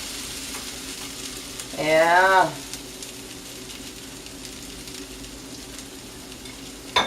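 Butter browning in a hot frying pan for a big stack breakfast gives a loud burst of sizzling and spitting lasting about half a second, then settles into a faint low crackle, with one brief spoken word near the start.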